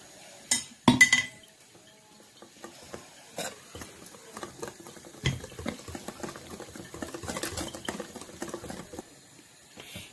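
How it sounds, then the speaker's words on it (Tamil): Taro root bajji batter, with a little rice flour, being stirred in a bowl as water is added bit by bit, giving irregular soft clinks and wet taps close by, with a sharper burst of clatter near the start. "இப்போ கொஞ்சம் கொஞ்சமாக தண்ணி சேர்த்து நல்லா கரைச்சிக்கோங்க."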